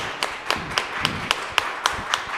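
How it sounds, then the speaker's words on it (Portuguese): Slow, sparse hand claps from the audience at a symposium round table, about nine distinct claps in a steady rhythm, fairly close and not very loud, with no talking. "Salve de palmas."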